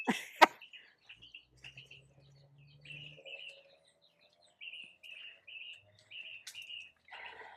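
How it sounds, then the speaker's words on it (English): Birds chirp and tweet in a tropical fruit-tree garden, with short repeated high calls in a steady series, a few brief clicks and a cough-like sound near the start, fairly close and clear with no talking. "Lots of birds."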